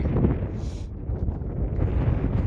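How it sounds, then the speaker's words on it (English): Gusty wind buffets the microphone on a flat, wide Colorado 14er mountain summit, a loud low rumble with fluctuating bursts and no speech. "A little windy up here"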